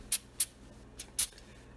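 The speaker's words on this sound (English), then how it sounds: "I'll just spray down the components and kind of just let it soak for a minute." CLP cleaner sprayed onto disassembled AR-15 rifle components: four short, sharp aerosol spritzes in an uneven rhythm, close and crisp against near silence, with no talking.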